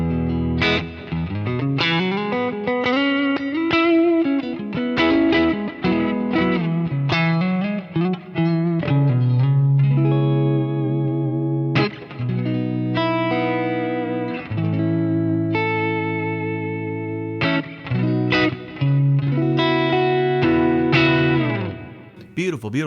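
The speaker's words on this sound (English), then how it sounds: "Let's listen to a Deluxe Reverb." An electric guitar plays a bass-register line through a Fender Deluxe Reverb amp impulse response, clean and sustained with a light effects sheen, with continuous picked notes and chords for over twenty seconds and no talk.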